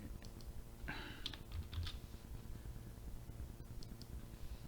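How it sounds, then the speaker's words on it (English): Quiet, irregular clicks of typing on a computer keyboard, with a few louder key taps over a steady fan hum and no voices. "It's a bit hard to type this way."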